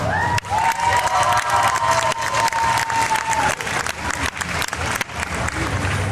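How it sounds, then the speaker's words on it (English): A crowd at a Walker Stalker Germany 2018 cosplay contest applauds and cheers for costumed contestants, loud dense clapping with shouts and whoops, a sustained tone early on over the continuous ovation. "Round of applause for our clowns."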